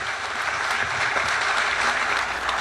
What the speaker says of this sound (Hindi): सलमान गिलानी साहब के लिए भरपूर तालियां।